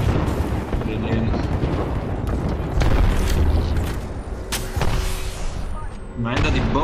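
Bombardment in the Apex Legends video game, dense rumbling booms and sharp blasts rolling on continuously, close and loud, with a voice talking underneath.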